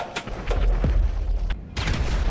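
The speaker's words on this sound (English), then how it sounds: "That explosion wasn't by coincidence" Explosions and gunfire in a Grand Theft Auto game, several sharp booming bursts in quick succession with heavy low rumble, one abrupt cutoff and a final blast, loud and close.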